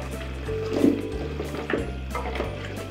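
Yogurt masala for beef paya curry frying in a pot while it is stirred continuously, giving a steady low sizzle with periodic scraping sweeps and a couple of clinks of the spoon, close and moderately quiet.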